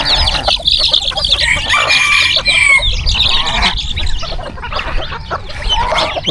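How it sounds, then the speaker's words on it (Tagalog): Farm chickens cluck busily close to the microphone while a rooster lets out a drawn-out crow in the middle, a loud, continuous flock chorus with no talk over it. "Itong manok."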